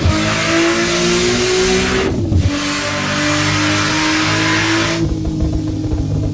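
A rear-wheel-drive car in Assetto Corsa revving hard through the gears, a loud buzzing engine climbing in pitch, dropping briefly at a shift, then climbing again before easing off, with no voices.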